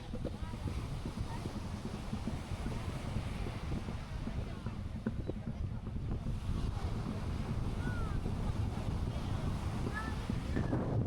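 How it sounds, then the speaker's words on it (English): Strong wind buffets the microphone on a beach at Playa del Carmen, a constant rough roar with ocean surf washing underneath, steady and loud throughout. "It is windy. I'll try to reduce as much of that noise as I can"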